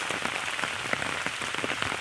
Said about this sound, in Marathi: खूप मोठाचा पाऊस आलाय आणि मुसळधार पाऊस आहे.